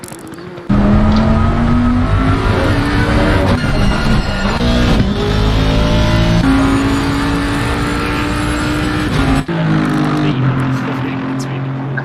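A Porsche race car in Assetto Corsa Competizione, racing at the Nurburgring: a loud, continuous engine howl with steady revs, gear shifts and pitch changes throughout.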